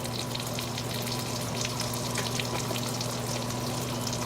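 Spam and bacon fry in a pan, giving a steady, crackling sizzle with dense spitting pops and a faint low hum underneath, continuous and close with no talking.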